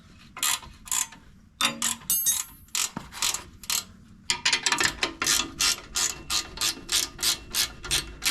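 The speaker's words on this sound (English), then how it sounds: "We're going to take this bolt out of here and put the longer one on with the bracket." A ratchet wrench clicks in quick, regular bursts while a bolt is removed from a Eurovan LP tank bracket. The strokes are close and crisp, pausing briefly before a faster, steady run of clicks.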